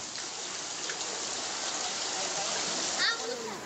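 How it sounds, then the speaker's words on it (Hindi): Heavy monsoon rain and floodwater in northern Gujarat make a dense, steady hiss of rain and rushing water that is constant and fairly close. A voice talks over it briefly near the end. "सौराष्ट्र के बाद अब बारिश ने उत्तरी गुजरात में कहर बरपाया है।"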